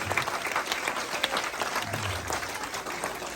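Crowd applause at a Poole Pirates speedway press conference, a dense, steady clapping from a sizeable audience of fans that holds loud and unbroken throughout, with no talking over it.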